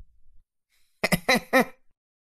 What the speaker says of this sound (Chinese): 蒋公公咳嗽一声